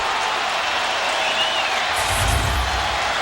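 A football stadium crowd at a West Virginia Mountaineers versus Miami Hurricanes game sends up a broad, steady roar of cheering and applause that swells slightly toward the end.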